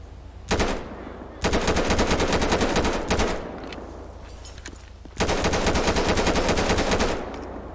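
Rapid automatic M4/AR15 rifle fire in GTA 5, three loud sustained bursts with short gaps between them, close and dry, with no talking.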